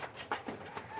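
Young racing pigeons cooing in a loft run on the widowhood system, a few soft throaty coos close by over a steady low hum.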